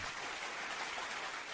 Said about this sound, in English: We'll give him a round of applause as he walks out.